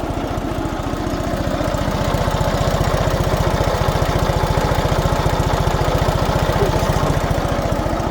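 The diesel engine of an MTZ-082 mini tractor idles at low revs, a steady close chugging with even, rapid low-pitched pulses and a faint clattery knock, running without pause and with no talking.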